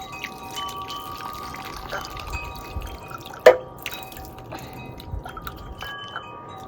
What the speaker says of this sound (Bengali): সব জল তো ফেলেই দিলি তুই।